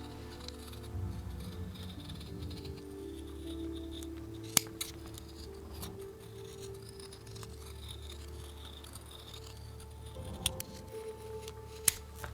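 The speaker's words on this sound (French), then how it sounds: "je viens redécouper tout ce qui dépasse au ciseau" Scissors trim excess leather from the ear pads of a Beyerdynamic DT770 M headphone, with faint snips and rustling over a low background hum and a few sharp clicks.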